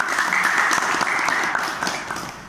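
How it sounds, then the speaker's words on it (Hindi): Brief, dense burst of applause for a teacher at a school for the blind, many hands clapping at once in an even, loud wash that tapers slightly at the close. "मैडम जी के लिए जोरदार तालियां हो जाएंगी"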